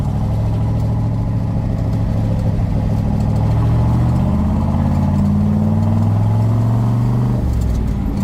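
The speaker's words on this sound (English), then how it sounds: "Shifting this car is so easy as well." A 1966 Chevrolet Corvette drives and shifts through gears, its engine note loud and close, rising in pitch and then dropping near the end as the next gear engages.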